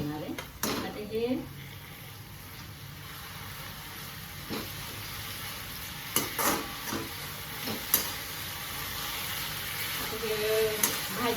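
Ambadi greens are stir-fried in a pan for chutney, with intermittent scrapes, clinks and knocks of the spatula against the pan over a faint background sizzle.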